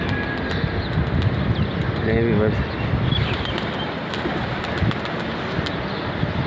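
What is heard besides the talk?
pigeons flying from rooftop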